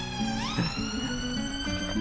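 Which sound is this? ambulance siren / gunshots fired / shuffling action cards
ambulance siren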